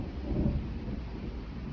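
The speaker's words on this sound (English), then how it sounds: "now look, it's raining out here" Rain falls outdoors with a low rumble of thunder, a steady wash of noise that swells early and then settles into a continuous roar, with no talking.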